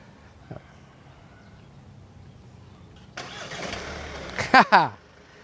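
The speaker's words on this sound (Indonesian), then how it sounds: "Sekarang mobil sudah menyala" A quiet stretch, then a 2021 Hyundai Santa Fe engine cranks and catches via remote key start, settling into a running rumble with a couple of sharp beeps.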